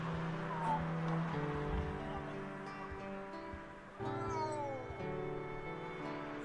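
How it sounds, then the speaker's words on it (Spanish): A cat meowing in the video game Simulacrum, with a few short meows, one early and a louder, longer one about two-thirds through, heard faintly beneath steady game background sound. "escuchamos al gato y el gato nos dice por acá"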